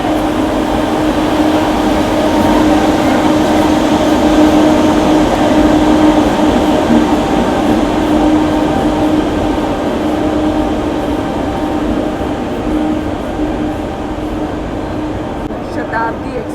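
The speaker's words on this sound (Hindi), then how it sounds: "शताब्दी एक्सप्रेस 2:53 यहाँ से अपने देहरादून शताब्दी जो है वो फाइनली निकलते हुए।" Dehradun Shatabdi Express pulling out of a railway station, a steady loud rumble with a sustained tonal hum and continuous rolling noise that eases slightly toward the end, with someone talking over it.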